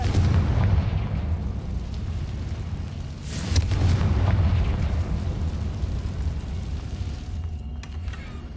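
A Confringo spell explosion in Hogwarts Legacy, a deep rumbling boom that swells midway and then slowly fades into a low, lingering roar.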